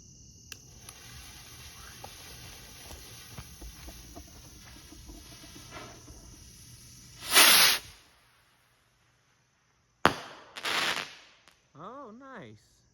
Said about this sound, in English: That's a long fuse on that thing.